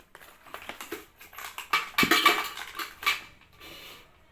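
A spoon scooping lemon tea powder, close light scrapes and clinks against the container in quick irregular taps, louder in the middle, with no talking.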